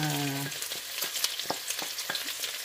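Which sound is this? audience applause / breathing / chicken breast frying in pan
chicken breast frying in pan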